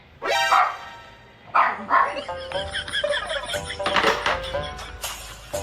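Several sharp dog barks and yips burst out close by, with some chatter and household noise mixed in between.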